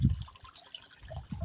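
Spring water in an African village flows out into a small dug trench, a soft close trickle and gurgle with small splashy bursts, brief and steady.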